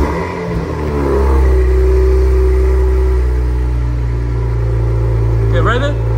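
2023 Cadillac CT4-V Blackwing engine rises in one rev through the muffler, then holds a deep, loud, steady rumble close by before easing off.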